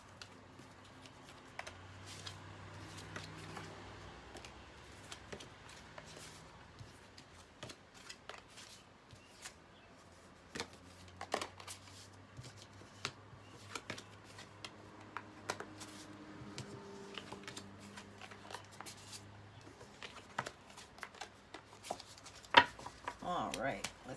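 Tarot cards are shuffled in soft, repeated riffling bursts, faint and close, under a quiet speaking voice throughout.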